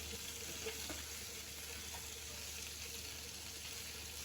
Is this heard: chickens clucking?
no